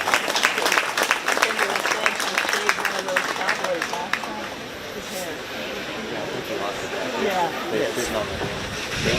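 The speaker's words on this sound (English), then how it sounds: "Let's give this young lady a round of applause" Audience applause at a 4-H sheep and goat show at the Shelby County Fair, a dense, steady patter of many hands that holds for several seconds while an announcer keeps talking over it.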